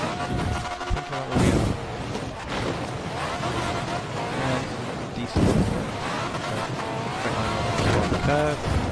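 A car driving hard on a rough road, suited to drifting, with engine roar and bursts of tire squeal and skidding; a voice talks over parts of it.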